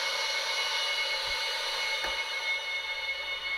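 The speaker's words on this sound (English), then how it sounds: "It's releasing the air out of this bag and putting air into the lift bag." A steady, loud hiss of air venting from an air bag on a tri-axle lowboy trailer runs through the whole stretch, with a couple of faint knocks.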